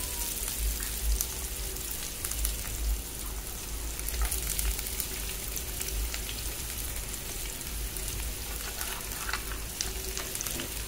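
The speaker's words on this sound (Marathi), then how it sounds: "आता व्यवस्थित आपण परतून घेऊया." Onion, capsicum and carrot sautéing with spices in a pan for rice, a steady dense sizzle with soft stirring scrapes throughout, close and even, no voices.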